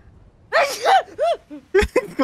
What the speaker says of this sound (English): You get scared of your own sneeze?